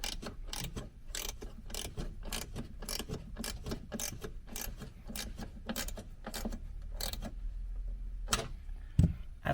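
A socket ratchet tightens a bolt while a Jeep JL locker is installed, giving a long run of quick, close clicking strokes at an uneven pace, with one louder knock near the end.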